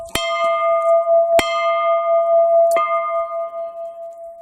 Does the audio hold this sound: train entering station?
no